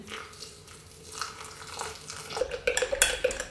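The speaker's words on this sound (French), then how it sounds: "On n'oublie pas de touiller." Coffee being stirred in a French press during brewing: soft scraping and clinking of a spoon against the glass, a few quick close strokes that grow busier and brighter toward the end, with no talk.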